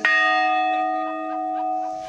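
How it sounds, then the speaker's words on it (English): A memorial bell tower bell tolled by veterans at a dedication ceremony in Evendale: one loud, ringing strike that hums and slowly decays, heard alone and close. "veterans in the community tolling the bell one by one"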